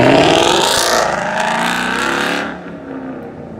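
A Ford Mustang's engine revs loudly and close, a sustained roar that eases off toward the end, with no talk.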